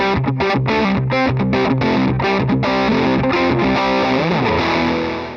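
Electric guitar plugged straight into a loud Marshall amp plays an intro riff, a driven, distorted tone with choppy palm-muted rhythmic stabs ending on a sliding, sustained chord, loud and up close with no talk.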